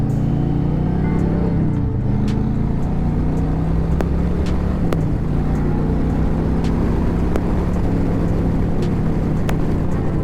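A motorcycle accelerates through its first gears on the road. A loud, continuous engine roar mixes with wind rush, and its pitch rises and drops at each gear change.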